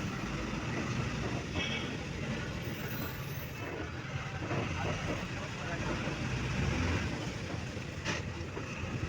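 A railway station at Varkala, Kerala, just after a train arrives: a steady broadband rumble of trains and platform bustle runs throughout, loud and continuous, with faint knocks and clanks now and then.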